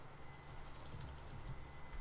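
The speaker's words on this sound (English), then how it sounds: "It was just you typing." Steady computer keyboard typing, close and continuous for about two seconds, with brighter clusters of key clicks and a low background hum; no talking.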